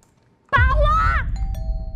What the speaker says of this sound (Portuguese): tá tocando a campainha